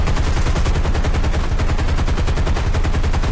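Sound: aircraft gun firing at enemy airfield in War Thunder video game

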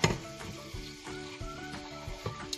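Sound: sautéing garlic, tomato and onion for bopis

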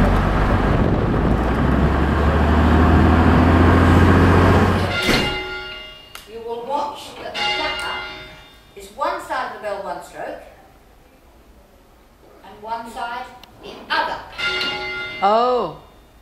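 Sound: church bell near convict-built town hall

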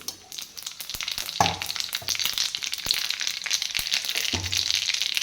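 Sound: mustard seeds and cumin frying in an iron pan

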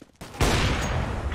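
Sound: gunfire in a video game

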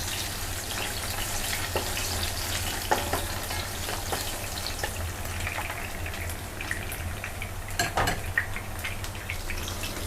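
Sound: frying shiitake mushrooms

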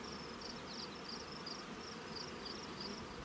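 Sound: honey bees buzzing in an open hive

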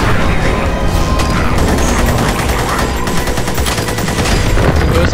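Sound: rocket launcher explosions in Magicka, video game

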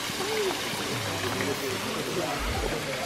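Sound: waterfall water flowing, Oahu Hawaii

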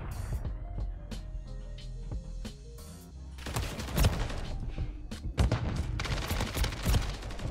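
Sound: FJX Horus SMG gunfire in Call of Duty MW3 video game

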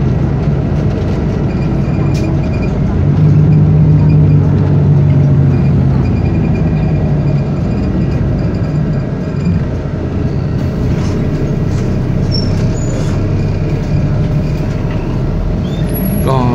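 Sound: riding the Suvarnabhumi airport shuttle bus line C

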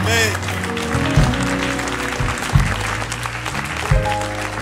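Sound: audience clapping for the Lord Jesus

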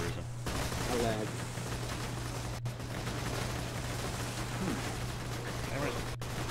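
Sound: gunfire in video game Borderlands 2

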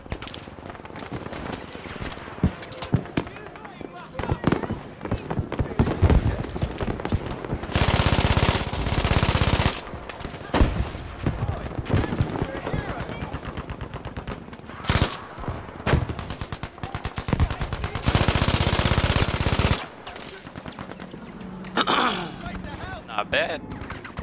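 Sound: MG42 machine gun fire in video game Battlefield V

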